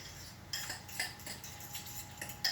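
Salsa and avocado mashed together into guacamole, with soft scraping and clinking of a utensil against a bowl in short uneven strokes, close and quiet.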